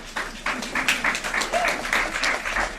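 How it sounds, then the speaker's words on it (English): An audience at a paid-leave advocacy gathering gives a round of applause, uneven clapping of moderate loudness with a few voices calling out. "Let's give them a round of applause, okay?"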